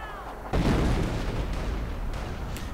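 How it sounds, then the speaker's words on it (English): Artillery fire booms in a strategy video game: a sudden heavy blast, then a sustained loud rumble of continued bombardment that fills the rest of the clip. "Artillery again."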